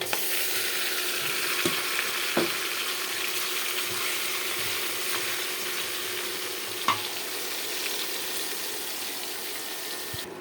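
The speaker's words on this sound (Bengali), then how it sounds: "মাংসগুলো সুন্দর কষানো হয়ে গেছে" Meat sautéing in a pan, a steady hissing sizzle throughout with a few sharp clinks of a spoon on the pan, close and moderate.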